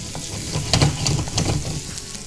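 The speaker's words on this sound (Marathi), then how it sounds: "1 चमचा आलं सुद्धा एकदम बारीक चिरून घेतलेलं आहे आणि आलं आपण त्याच्यामध्ये ॲड केलं आणि हे आता व्यवस्थित परतून घ्यायचं" Chopped garlic and ginger sauté in hot oil with a steady close sizzle, broken by several quick scraping stirs of a spoon against the pan.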